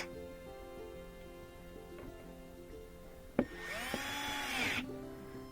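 Power drill drives screws into a Toyota Prius rear bumper: a sharp click, then a rising high-pitched whir lasting about a second, heard over a faint steady background hum.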